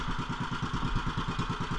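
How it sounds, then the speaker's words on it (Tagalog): A fishing boat's engine runs steadily on open water while tuna fishing, a close, continuous low throbbing with a regular pulsing beat and no voices over it. "Kaya ito pinaandar lang namin yung makina para masundan namin yung agos."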